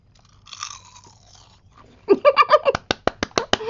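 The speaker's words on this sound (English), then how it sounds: "I'm be chomping on kale chips" Garlic parmesan kale chips crunch up close as someone chomps them, a rapid run of sharp, loud bites and snaps after a quiet moment of faint rustling.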